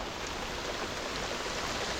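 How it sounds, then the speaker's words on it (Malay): Heavy rain pours steadily outdoors during a river fishing trip for giant freshwater prawns, a dense, continuous hiss with no break across the whole stretch. "Makin lebat geng. Hujan."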